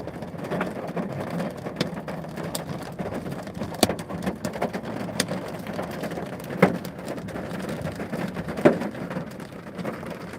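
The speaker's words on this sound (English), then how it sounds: "Yeah, that's some hail." Small hailstones clunk sporadically among steady rain during a rainstorm in Englewood, scattered sharp knocks over a constant wash of falling water, with no voices.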